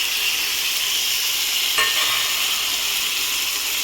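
Prawns frying in a pan, village-style cooking: a steady, dense hiss of sizzling oil fills the whole stretch at close range, with one brief sharper crackle midway and no voices.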